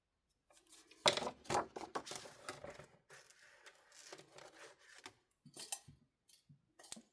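Scissors snip through paper for a travel album in a quiet room, a series of short, crisp cuts in irregular bursts with brief rustling between them.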